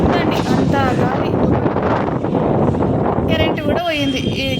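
Strong gusty wind ahead of a rainstorm in Hyderabad roars and buffets the microphone in a continuous loud rush, with a voice speaking briefly near the end.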